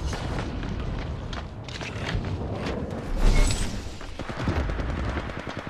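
Gunfire in the mobile battle royale game Apex Legends Mobile: scattered shots and bursts over a busy, rumbling backdrop, with a louder cluster near the middle and game voice chatter mixed in.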